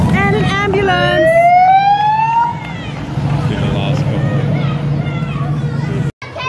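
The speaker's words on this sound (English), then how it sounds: "And an ambulance." An ambulance siren wails past with a rising tone, loud and close, over crowd noise and talk at a street car parade at the Red Centre NATS 2017.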